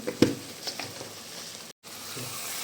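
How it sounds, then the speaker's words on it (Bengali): Spices with chili powder, sugar and a mixture sizzle in a pan while being stirred, giving a steady close frying hiss broken by a few scraping strokes of the spoon. "এই মিশ্রণটাকে ভালোভাবে মিশিয়ে দিলাম এটার সাথে, এইভাবে ভালো করে কষিয়ে নেব।"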